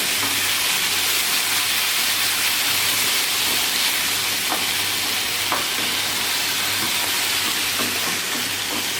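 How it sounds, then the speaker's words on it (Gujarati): Tomato gravy for a tava cauliflower sabzi bubbles and sizzles in a pan, a steady, dense hiss close by that runs unbroken throughout, with a few faint clicks and no talking. "અને હવે ગ્રેવી થોડુંક પાકવા દઈશું ટમેટાને આપણે"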